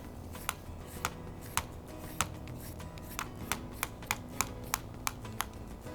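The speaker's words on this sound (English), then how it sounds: "I'm going to do a little demos today too on how we just peel off that cucumber" A cucumber being peeled with quick, dry scraping strokes, a dozen or so sharp crisp rasps in an uneven but speeding rhythm, close and fairly quiet with no talking.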